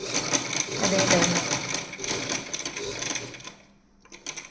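A sewing machine stitches fabric at a tailoring class in a steady, fast mechanical whir that runs nearly throughout, with someone talking over it before it slows and fades near the end.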